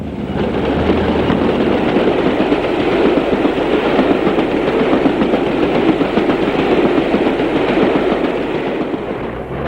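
British Railways Class 40 diesel locomotive 40197 hauling a 1983 Scarborough to Rhyl charter train at Burton Lane near York, a loud, continuous close rumble with rhythmic wheel clatter throughout.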